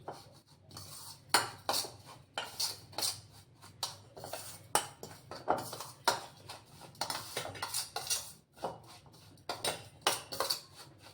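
Vegetable pickle being mixed with Kashmiri chili in a bowl, giving a run of quick clinking and scraping strokes of spoon against the vessel, close and fairly quiet, in an irregular rhythm over a low hum.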